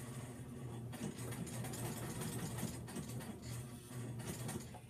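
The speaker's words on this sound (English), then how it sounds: "it can be a little bit tricky sewing around the koozie top" A sewing machine runs at a steady, slow pace while stitching around the top of a fabric beer koozie, a close mechanical whir with rhythmic needle clatter and brief pauses.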